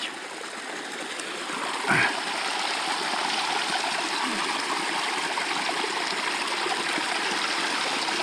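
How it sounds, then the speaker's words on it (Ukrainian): A mountain stream in the high Carpathians murmurs in a steady, broad wash of flowing water, close and continuous, with a brief bump of handling noise near the start and no talking. "О, як дюрчить водечка"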